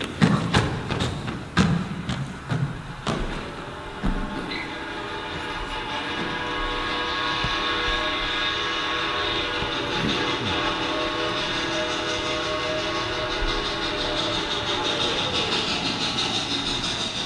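A train sound effect in a high school stage play opens with a rapid series of heavy clanks and thumps, then settles into a continuous rumbling, rattling roll of rail cars with a faint whistle-like tone, no voices.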